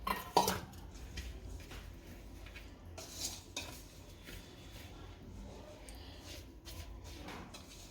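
A spoon stirs a thick semolina and yogurt batter for besan rava dhokla in a bowl up close, with repeated scraping and occasional clinks against the sides.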